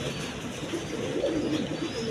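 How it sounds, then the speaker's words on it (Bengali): Caged pigeons at a bird market coo softly in low, rolling bursts over a steady background hum, fairly close but not loud, with no talking. "এটা মূলত বানজা কবুতর"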